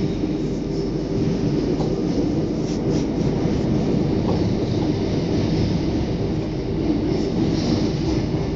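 An MI2N Z22500 double-deck commuter train pulls into Haussmann Saint-Lazare station, heard from inside as a loud, constant low rumble of wheels and motors with faint rail clicks and squeals, no voices.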